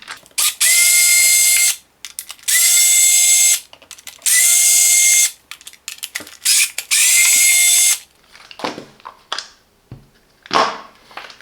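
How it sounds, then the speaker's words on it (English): A power driver whirs in four loud bursts of about a second each as it backs out the screws holding the drive belt cover on a Parkside PEH 30 D4 electric planer. Softer clicks and handling noises follow. "We need to remove these 4 screws."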